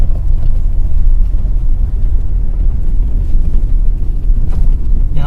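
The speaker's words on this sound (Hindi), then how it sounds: "अभी गाड़ी पहले गियर पे चल रही है" A car moving in first gear produces a loud, continuous low engine rumble with rough road noise, steady across the whole stretch with no talking.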